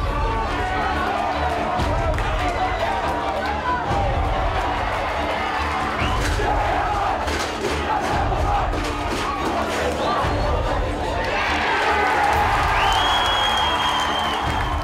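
Home crowd at a Nudgee College school rugby game, cheering and shouting in a loud, continuous roar with bursts of whoops and applause, rising toward the end.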